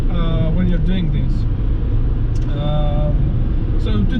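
Interior of a Dacia Spring 65 electric car cruising on a motorway: a steady low road and wind rumble that stays even throughout, with a person talking over it.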